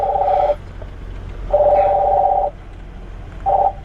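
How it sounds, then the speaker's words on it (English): An electronic phone ringtone: steady beeping tones in bursts of about a second, separated by short pauses, loud and close. "it sounds like I'm getting a phone call."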